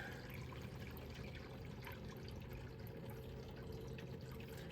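Hot water rinsing a skunk-fouled fan blade, a steady, close, continuous splashing stream that stays even throughout with no talk.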